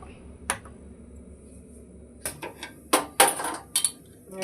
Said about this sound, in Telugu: గిన్నె పెట్టి